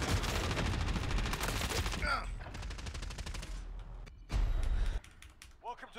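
Rapid automatic gunfire in a Call of Duty Warzone Plunder match, dense bursts of shots and mechanical clatter for about two seconds, then sparser shots and a loud burst, with a voice talking over the fight.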